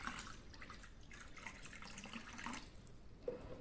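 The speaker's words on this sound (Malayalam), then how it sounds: "കുറച്ചും കൂടി ഐസും വെള്ളം." Ice water pours into a glass of honey, a soft continuous trickle with faint drips, quiet and close.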